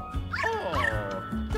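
A small dog character, the Poacher Pup from the video game Luigi's Mansion 3, gives a couple of close, high yipping barks with whiny pitch slides, set over game music.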